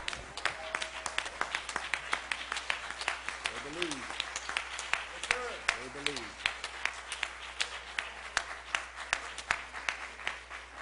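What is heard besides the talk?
church congregation hand clapping in praise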